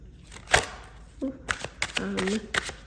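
A deck of Wisdom of Hafiz oracle cards being shuffled and a card drawn, giving short close riffling and flicking bursts broken by brief pauses, with a voice speaking over part of it.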